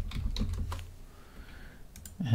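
Fingers tap out a short burst of typing on a computer keyboard, entering a text prompt. The keystrokes are close and crisp, with a brief pause partway through.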